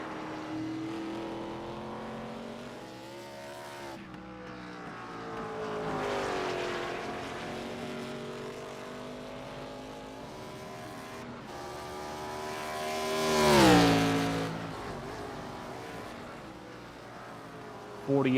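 Race cars lapping at Lime Rock in a racing video game, engines droning steadily, with one car's engine rising to a sharp, loud rev before dropping away.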